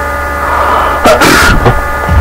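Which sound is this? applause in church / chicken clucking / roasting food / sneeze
sneeze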